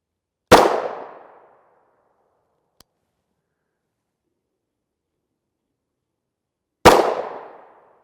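Two sharp, loud gunshots hit a NIJ Level IIIA bulletproof vest plate, spaced about six seconds apart, each cracking hard and ringing out briefly in otherwise near silence.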